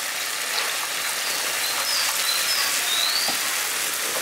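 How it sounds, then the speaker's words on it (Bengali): Water poured into a pan of boiled moong dal while cooking village-style papaya moong dal, a steady, close, bright hissing splash that lasts throughout. "তার সাথে আমি অল্প একটু জল দিয়ে দিচ্ছি।"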